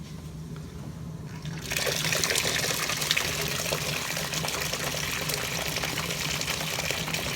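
Water gushes and splashes from an overfilled steam boiler, a faint trickle at first, then a loud, steady broadband rush that runs unbroken to the end.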